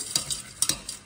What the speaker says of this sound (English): It'll form lumps, so to stir it